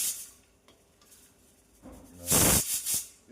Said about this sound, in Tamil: பக்கத்துலேயே குக்கர் சத்தம் குக்கரில் கறி வேக விட்டுருக்காங்கன்னு நினைக்கிறேன் அதான் சத்தம் வருது